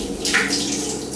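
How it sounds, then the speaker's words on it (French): Water runs in a short, steady splash while shampoo is rinsed out of hair, a close, hissing wash with no talking. "Continuez à rincer parce qu'il faut qu'il y en ait vraiment plus du tout de shampoing."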